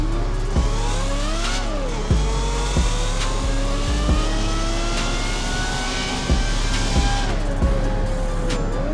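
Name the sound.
Lamborghini car engine accelerating in a video game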